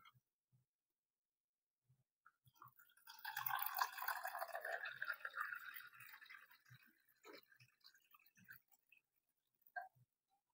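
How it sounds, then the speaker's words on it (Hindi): Water is poured into the tank of a small portable air cooler fan, a continuous splashing trickle lasting a few seconds and then tapering into scattered drips in an otherwise quiet room. "अब हम इस फैन के वाटर टैंक को पानी से भर रहे हैं।"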